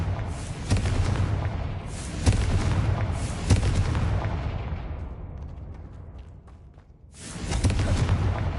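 The Confringo fire spell in the video game Hogwarts Legacy bursts in heavy, booming explosions that roll and fade, with a quieter lull before another loud blast.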